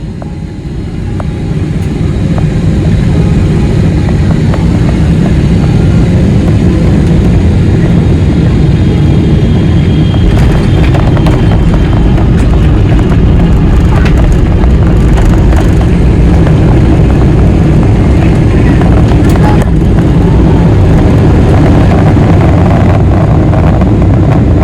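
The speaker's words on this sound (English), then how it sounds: "I'll let you think about it as we touch down in Singapore." An EVA Air Boeing 777 touching down in Singapore and taxiing to the gate, heard from inside the cabin as a loud, steady low-frequency engine and rolling roar with occasional rattles and thumps, no speech.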